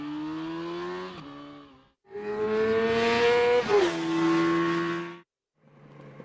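A Yamaha R6 race motorcycle on a circuit, its high-revving engine whining loudly through gear changes, with a pitch drop and a brief gap under hard braking into a hairpin before revving again.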